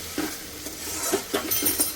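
Vegetables sizzle softly in a pan while a utensil scrapes and stirs in short, uneven strokes, close by.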